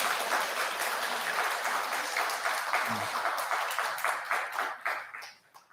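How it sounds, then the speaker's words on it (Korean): Temple audience applauding during a Buddhist Saturday dharma talk, sustained dense clapping from a gathered crowd that carries on steadily before tapering off near the end. "배고프니까 빨리 끝내라고 박수를 계속 쳐주시는 것 같아요"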